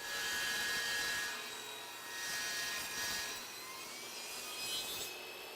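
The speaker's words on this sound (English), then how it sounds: "Start your saw and feed the panel through, pressing it against the fence." A table saw makes a bevel cut on a wooden panel for a raised panel door, giving a faint, steady whining hiss throughout at moderate distance, with no voices.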